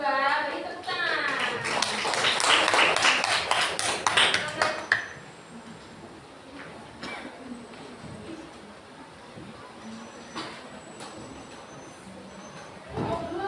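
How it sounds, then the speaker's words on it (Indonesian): A class applauds a student group during a coding and artificial intelligence teaching session, with dense, loud clapping for about five seconds that then stops, leaving quiet room noise, scattered taps and faint voices. "Beri tepuk tangan."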